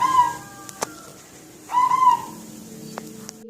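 A zebra dove (perkutut) with pale dark-tinged legs gives two short, clear whistling coos, the second rising and wavering, fairly near and alone, with faint low background noise in between.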